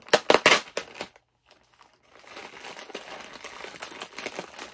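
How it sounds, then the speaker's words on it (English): Packing tape peeled and crinkled off a shipping box of Golden Age comic books during an unboxing, with a few loud tearing bursts followed by a quiet pause and then a steady stretch of softer crackling. "And I have to get the tape off this."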